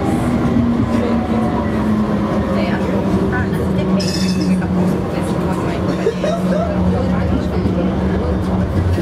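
A London Tramlink tram rumbles steadily along its rails, a constant loud mechanical roar with faint squeals and clatter running through it, heard from the cab.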